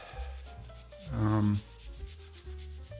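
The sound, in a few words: wiping old thermal paste off with isopropyl alcohol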